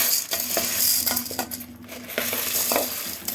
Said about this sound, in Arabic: بس كده حطينا الزيت اهو، وننزل بالمكرونه نديها لون.